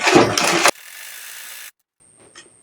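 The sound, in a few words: sewing machine double stitching a blouse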